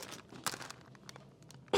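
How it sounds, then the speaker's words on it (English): A crinkly plastic cheese package being torn open while making chicken wing dip, giving close, sharp crinkles and tearing bursts, loudest near the start and again at the very end, with no speech. "And I'm gonna open the cheese."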